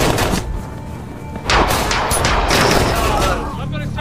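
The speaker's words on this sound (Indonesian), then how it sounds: "musuh langsung menyerang dan menewaskan salah satu anak buah Frank hingga terjadilah baku tembak" Gunfire rages through a film firefight, with dense overlapping shots and bursts loud and close throughout, swelling heavier midway, with voices faintly mixed in.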